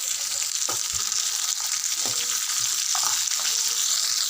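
Green chillies and onions fry in a pan with a constant crackling sizzle, a few soft scrapes of a spoon rising now and then through the hiss, heard up close without any voices.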